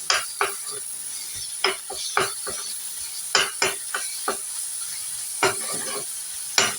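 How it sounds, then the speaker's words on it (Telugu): Ginger fries in oil for a bitter gourd dish, a steady sizzle broken by repeated sharp scrapes and clinks of a spoon stirring against the pan, close up. "అల్లం మంచిగా వేగాలన్నట్టు."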